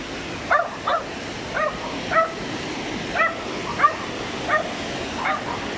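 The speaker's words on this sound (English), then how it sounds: "Little barking dog." A small dog barks in a countryside garden in rural Medellin, Colombia, giving about nine short sharp yips in loose succession at moderate distance over a low outdoor background hum.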